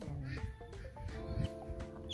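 Feather-footed bantam chickens being housed in a garden, giving soft low clucks and murmuring calls close by over a continuous background hum.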